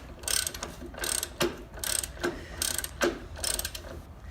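A ratchet tightens a motorcycle axle nut during a chain adjustment, with about ten loud, rhythmic clicking bursts close by as the handle is swung back and forth.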